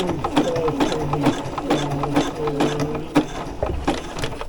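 A sewing machine stitches fabric in quick rhythmic bursts of mechanical clatter, running close and fairly loud with brief pauses between runs.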